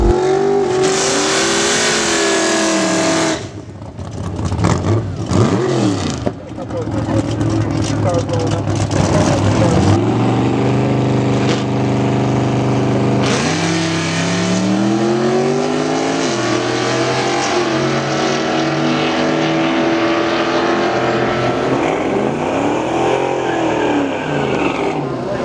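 Chevelle race car making a drag racing time trial run, engine revving hard and loud through rising gear sweeps, shifting and pulling away with steady roaring exhaust.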